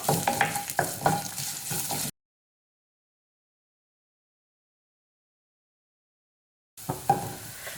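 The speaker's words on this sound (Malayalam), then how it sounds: "ഇനി നമുക്കിതിലേക്ക് ഇഞ്ചി കട്ട് ചെയ്തത് ചേർത്ത് കൊടുക്കാം. നന്നായിട്ട് ഇളക്കി കൊടുക്കാം." Ginger and curry leaves stirred and sautéing in a pan for a potato masala, with close spoon scraping and a soft sizzle for about two seconds, then a long silent gap before the stirring briefly resumes.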